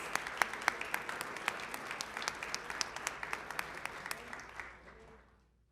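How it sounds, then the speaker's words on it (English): An audience at a school board meeting applauds a high school mariachi group, with crisp individual claps standing out over steady clapping that fades away at the end. "Let's give them a big round of applause."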